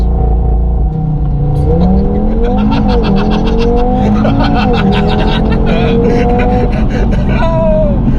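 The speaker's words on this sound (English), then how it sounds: "We're just going to give it a launch in stock" An Audi TT RS, stock, launching hard from a standstill in a 60 mph zone, its engine roaring loud and close as it climbs through rising revs with brief dips at gear changes, tire noise mixed in, heard from inside the car.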